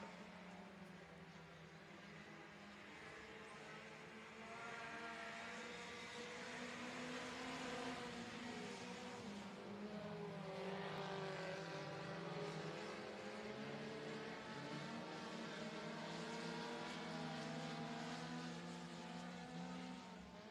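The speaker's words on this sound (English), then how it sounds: "3 laps down and 3 laps to go for the first of 2 front-wheel drive 4-cylinder heat" Front-wheel-drive four-cylinder race cars circle the track at Boothill Speedway during a heat race, a continuous blended engine drone with shifting pitch heard from a distance, steady and fairly faint throughout.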